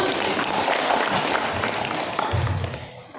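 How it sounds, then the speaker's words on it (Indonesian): An audience at a talk show claps continuously for a few seconds, the applause fading slightly toward the end, with a few voices mixed in. "Bagus, tepuk tangan dulu."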